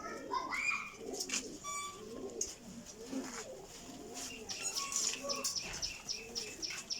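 Indian Lakha pigeons newly in fresh feathers coo softly in repeated throaty phrases alongside scattered chirps, close but faint, with a voice talking now and then in the background.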